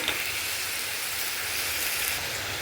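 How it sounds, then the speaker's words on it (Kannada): Liver frying in oil in a pan until the oil separates, a steady, close, bright sizzle with a faint low rumble beneath and no break in the hiss. "ಈ ಥರ ಎಣ್ಣೆ ಎಲ್ಲ ಬಿಟ್ಕೊಳ್ಳೋವರೆಗೂ ಫ್ರೈ ಮಾಡ್ಕೊಬಿಟ್ಟು"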